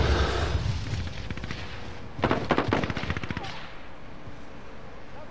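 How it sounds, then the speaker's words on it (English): Rapid gunfire bursts in a first-person shooter headquarters match, a dense volley of shots in the middle stretch over steady game noise, with a player talking. "Stop fucking shooting me."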